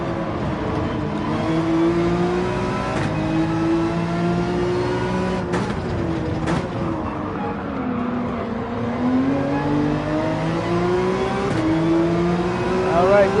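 Race car engines in Gran Turismo 7 on the Dragon Trail circuit, rising and falling revs as gears shift through corners, loud and close with a second car passing nearby.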